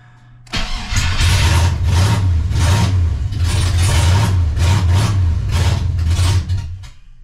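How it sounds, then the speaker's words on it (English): Built 5.7 Vortec V8 swapped into an S10 starts abruptly and runs loud and close, its idle lumpy and surging in a repeating rhythm with sharp pops, then cuts off near the end. "our engine won't stay running. And like I said, I have those just popping."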